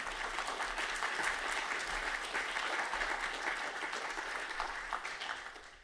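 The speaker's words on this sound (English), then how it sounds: "Can we give a warm round of applause to our four panelists" Conference audience at a glass-industry circular economy panel applauding the four panelists, a steady, fairly faint wash of clapping sustained for several seconds without talk.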